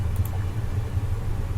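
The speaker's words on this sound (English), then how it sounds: "I'm sorry about the fan, Shadow." Electric fans running in a humid room give a steady low hum and airy whoosh, a constant near drone with no other sounds.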